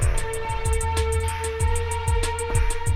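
A decaying, string-like sampled tone plays from a Korg ES-1 sampler inside a looping electronic beat, with steady sustained pitches over a repeating thumping kick and crisp hi-hat ticks, loud and close.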